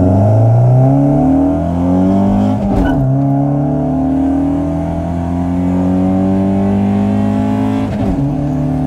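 A Honda Civic without VTEC revs hard and accelerates loudly and close by, its pitch climbing in steady sweeps, with a brief gear-change dip partway through.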